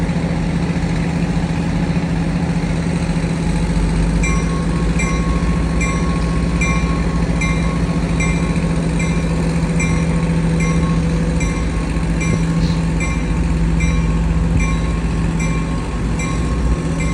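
A train idles at a rail station with a steady low rumble and a constant mechanical hum. Faint intermittent beeping or chiming tones pulse through the middle, and no one speaks.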